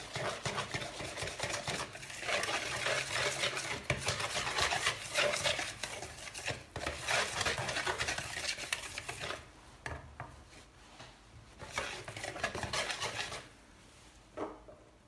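Flour and pancake batter stirred in a bowl, a steady scraping, rubbing rasp that runs continuously at close range with brief pauses, no talking over it.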